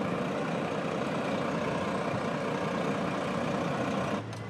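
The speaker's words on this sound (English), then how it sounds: "we're just chilling on the bus" A bus engine droning steadily during a ride toward Perth in Western Australia, a low rumbling motor with road noise, close and even, ending in a short drop in the sound.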